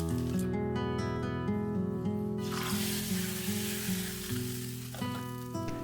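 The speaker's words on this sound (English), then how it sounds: "For the final touch, I made simple tadka of mustard, curry leaves and a little hing in ghee." A tempering of mustard seeds, curry leaves and hing sizzles in hot ghee, a steady crackling fry heard close up beneath sustained musical tones.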